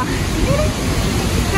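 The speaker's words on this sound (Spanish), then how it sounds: "Esto que ustedes ven que cae es el agua." Pailón del Diablo waterfall in Baños, Ecuador, roars as a dense, loud, continuous wash of falling water, with faint voices mixed into the noise.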